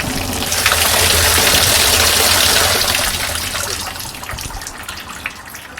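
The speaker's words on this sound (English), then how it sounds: "Happy sound of the water barrel filling up" Water poured into a tarp rushes down into an outdoor water barrel near Trefechan Bridge, a loud, steady splashing gush that eases into a softer trickle and drips halfway through.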